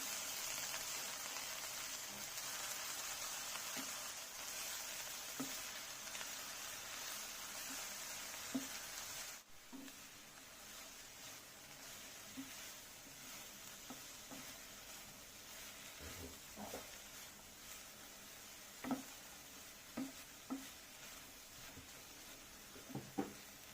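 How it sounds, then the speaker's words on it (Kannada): Coriander and mint leaves frying in a pan for a village-style mutton curry: a soft, steady sizzling hiss that is stronger for the first nine seconds, then quieter with scattered faint utensil clicks. "ಈಗ ನೋಡಿ ಕೊತ್ತಂಬರಿ ಸೊಪ್ಪು ಪುದೀನ ಸೊಪ್ಪು ಚೆನ್ನಾಗಿ ಫ್ರೈ"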